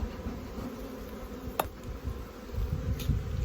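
Honey bees from a strong, feisty farm hive buzz in a dense, continuous drone close by, a few louder individual passes standing out briefly over the hum.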